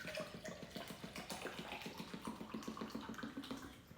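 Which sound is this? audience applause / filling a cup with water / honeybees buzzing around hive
filling a cup with water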